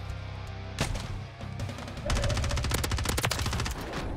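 Gunfire in the Warzone video game from a Ballista sniper rifle, with a sharp shot early, then a dense stretch of rapid repeated shots, loud and close with no talk.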